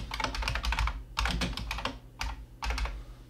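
Computer keys clatter in quick bursts of rapid clicks, separated by short pauses, as a file name is typed at close range with no one speaking.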